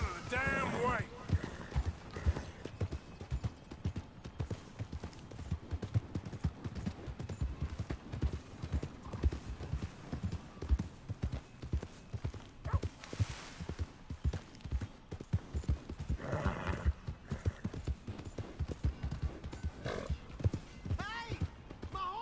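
In Red Dead Redemption 2, a horse gallops with a rapid, rhythmic clip-clop of hooves and whinnies now and then. The hoofbeats are close and continuous for the whole stretch, with game sounds around them.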